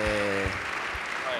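Applause from a church conference audience for the worship leaders, a steady broadband patter lasting the whole moment with a voice speaking briefly over its start.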